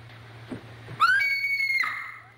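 A woman lets out a single loud, high-pitched scream lasting nearly a second, rising sharply and holding a shrill sustained tone before breaking off, heard in an old 1941 film scene with a faint low hum beneath.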